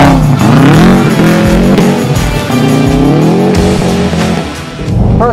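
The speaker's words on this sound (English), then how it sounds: "We're gonna see how we can handle the car in winter condition." Car driving hard on a winter test track at a General Tire AltiMAX 365 AW launch event: a loud, close engine revving and shifting pitch, with tire squeal and skidding throughout and no talking.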